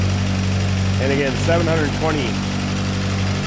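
A 1946 Crosley's small high-revving 724 cc four-cylinder engine runs steadily at idle, a constant low hum heard up close beneath a man's speech.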